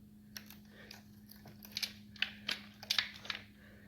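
Chain being worked off a chainsaw clutch sprocket: quiet, irregular metallic clicks and rattles, close up, with a few sharper ticks near the end and no talk.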